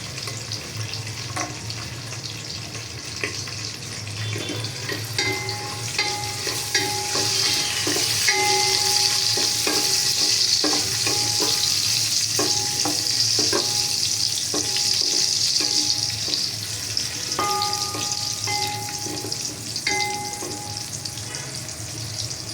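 Cashews and raisins fry with whole garam masala and cardamom in hot white oil, a steady close sizzle with scattered stirring clinks and scrapes, no voices.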